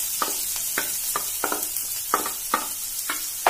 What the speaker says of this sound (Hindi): अब इसमें हम सबसे पहले हरी मिर्च डाल देते हैं और साथ साथ में प्याज भी डाल देते हैं।